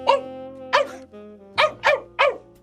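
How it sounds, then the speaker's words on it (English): A dog barks happily as a story sound effect, two bright barks followed by a quick run of three, loud and close with nothing else underneath. "Gelert looked at his master and barked happily."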